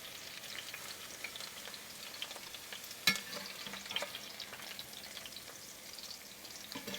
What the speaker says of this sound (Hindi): ये जब इस तरह का फ्राई हो गई ना, तो बस आपने इसको निकालना है